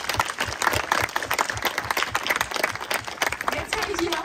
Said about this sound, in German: müssen wir doch mal einen richtigen Applaus für alle